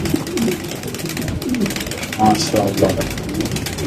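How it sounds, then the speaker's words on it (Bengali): A fancy breed pigeon coos in soft repeated rolling calls close by, mixed with someone talking over it. "কবুতরের ডাকটা একটু সামনে ইনশাআল্লাহ দেখাই দিলাম আপনাদের"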